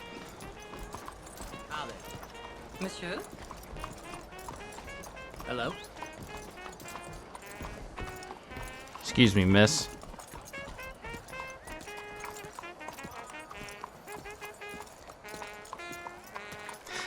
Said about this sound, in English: try to fast-track bonding with this horse by walking him to the mayor's house